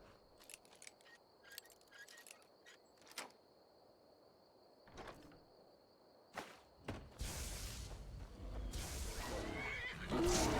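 A horse whinnies in the video game Skyrim, with several sharp clicks and thuds and a faint steady tone early on, then louder shuffling, rustling noise and a final neigh near the end.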